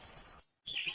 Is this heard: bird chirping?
yes